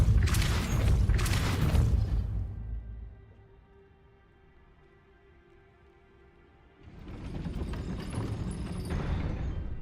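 Depulso force spell cast in Hogwarts Legacy: a loud rumbling, clattering burst, then a quieter ringing, humming stretch, followed by another heavy grinding rumble as something like a gate mechanism moves.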